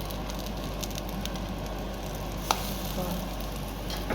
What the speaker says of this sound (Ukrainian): Смажу млинці.